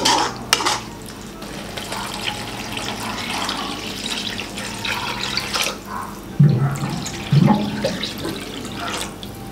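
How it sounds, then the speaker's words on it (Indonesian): Water poured into a wok of pork pieces being cooked for Balinese pork soto, a steady splashing, stirring wash with a couple of louder sloshes near the end, no talking. "Di sini saya menuangkan air hingga daging babi benar-benar terendam gitu guys"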